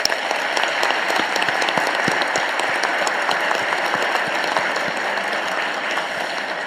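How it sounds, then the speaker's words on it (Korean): A crowd claps steadily and densely, a sustained wash of applause with no voices on top. "우리 박수 한번 보내드리세요"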